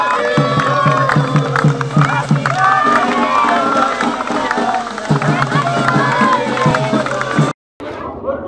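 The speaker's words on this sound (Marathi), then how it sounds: "ॲडव्होकेट प्रशांत देशपांडे यांनी केक कापला तेव्हा उपस्थितांनी एकच जल्लोष केला" Guests at a birthday party for an advocate, gathered for the cake cutting, raise a loud burst of cheering and excited shouting, with crowd babble throughout before a brief cut to quieter chatter.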